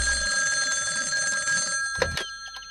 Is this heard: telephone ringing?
yes